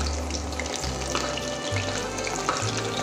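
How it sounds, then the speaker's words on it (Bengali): Chicken chop fries in hot oil with a constant close crackle and sizzle as pieces are turned, alongside a low hum beneath, with no voices. "এটা আস্তে ভাজা হোক। এবার চিকেনটা উল্টিয়ে দিচ্ছি।"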